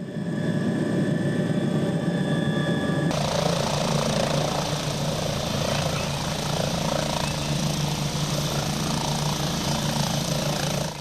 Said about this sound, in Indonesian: Helikopter tersebut mengevakuasi 4 warga lanjut usia yang membutuhkan penanganan medis.